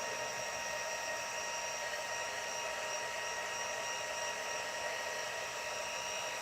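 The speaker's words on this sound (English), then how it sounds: "The second click is the heat to heat emboss." A heat gun set to its second heat setting for heat embossing a stamp blows with a steady, continuous whirring hiss, close and unbroken throughout.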